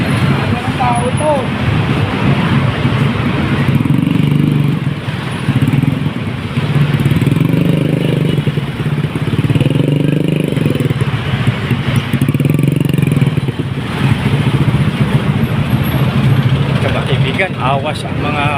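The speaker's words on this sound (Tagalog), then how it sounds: "awas ang mga motorsiklo" Motorcycles and other traffic rumble past on a busy road in Parañaque, their engine surges rising and fading in waves while people talk over the street noise nearby.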